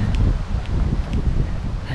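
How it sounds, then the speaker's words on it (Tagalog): Strong wind blows outdoors as a constant low rumble and buffeting against the microphone, with faint rustling and no voices. "kasi malakas yung hangin"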